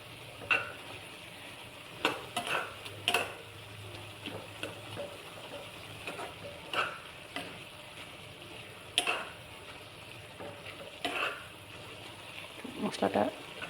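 Maggi noodles being stirred in a pan, with scattered scraping and clinking of a utensil against the pan over a faint sizzle, fairly quiet and intermittent.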